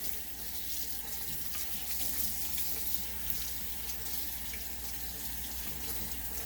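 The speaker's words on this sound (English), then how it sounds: "So just give them a good rinse." Loquat leaves being rinsed under a running kitchen tap, a steady splashing water stream that fills the whole stretch alone, close and even, with no voices.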